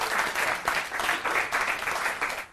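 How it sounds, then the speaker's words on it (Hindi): Audience applause welcoming a poet at a New Year poetry gathering, moderately loud and sustained with gently pulsing intensity. "जोरदार तालियों के साथ स्वागत डॉक्टर अरुण पांडे जी का।"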